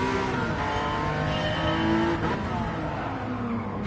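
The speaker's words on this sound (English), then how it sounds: "One last lap around the Nordschleife for us here in the Porsche Cup." A Porsche Cup race car laps the Nordschleife in Gran Turismo 7, its engine droning loud and steady at high revs with shifting pitch and faint tyre squeal throughout.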